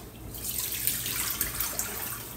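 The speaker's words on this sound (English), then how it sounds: "So now that rendered fat and water, I'm going to go ahead and pour into this glass bowl." Rendered meat fat and water are poured into a glass bowl, giving a soft, continuous liquid trickle with a few faint splashes, quiet and close, with no voices.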